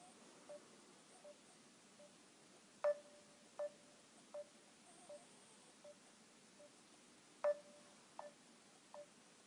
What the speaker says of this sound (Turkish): Birisiga telefon urib baqay, aşağıda turib baqqan birisiga.